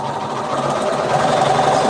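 Sewing machine running fast along a long quilt seam, a steady continuous mechanical whir that stays loud and even throughout with no talking.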